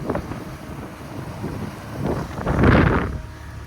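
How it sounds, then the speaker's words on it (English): A 2020 Tahoe 700 motorboat's Mercruiser 4.5 engine revs up under throttle, its low rumble growing louder toward the end, mixed with wind buffeting the microphone. "I'm going to add a little bit of throttle to the boat"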